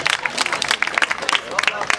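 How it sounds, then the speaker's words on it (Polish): A crowd at an American football game between the Raiders and Sabercats claps for an injured player walking off, a dense patter of applause under a commentator's voice. "Marcin Falkowski, wielkie brawa dla niego jeszcze raz."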